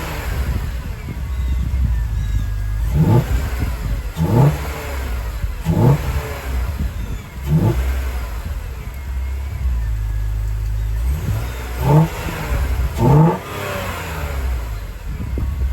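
BMW race car engine with stock headers and catalytic converter, revved in a series of sharp blips over a steady idle, about eight bursts spaced a second or two apart, close and loud.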